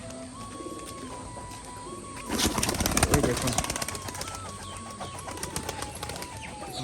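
Pigeons coo softly nearby, with a loud burst of flapping wings partway through and someone speaking briefly.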